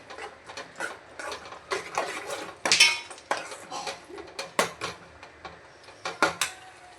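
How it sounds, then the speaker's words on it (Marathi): Fried potatoes being mixed with ketchup and Schezwan chutney in a pan for chilli potatoes: repeated scraping and clinking of a metal spoon against the pan in an irregular rhythm, close and fairly clear. "आणि वरतून आता टाकलेली आहे शेजवान चटणी। हे सगळं मस्तपैकी मिक्स करून घ्यायचं।"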